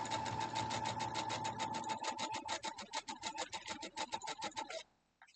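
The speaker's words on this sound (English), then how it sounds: "And then we'll go back over here to the sewing machine and sew it up." A sewing machine stitches a Harry Potter air castle variation quilt block, a fast steady run of needle strokes that loosens into slower, uneven bursts before stopping, close and loud with no talking.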